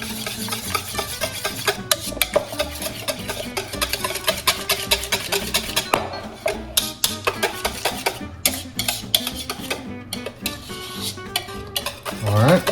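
Sauce being stirred into a cheese soufflé mixture in a bowl: steady clinking and scraping of a utensil against the dish, with rapid repeated strokes throughout and no talking.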